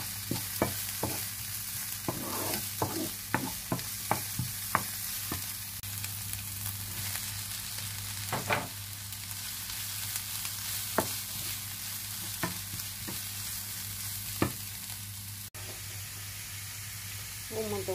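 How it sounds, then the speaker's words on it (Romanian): Pepper and carrot sautéing in oil for borscht, giving a continuous sizzling hiss with repeated scraping stir strokes, dense at first and sparser later, heard close over a low hum. "Vom căli toate legumele pe rând, da?"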